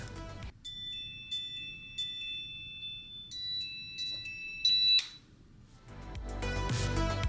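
Repeated electronic locator beeping tones from wireless earbuds in short bursts, fairly loud and close, followed by muffled rustling and handling noise.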